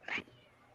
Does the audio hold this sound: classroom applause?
no